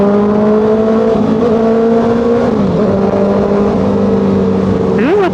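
A 2025 Honda CBR650R inline-four motorcycle engine hums steadily nearby with a smooth, high-pitched tone, dipping briefly, then revving up sharply at the end.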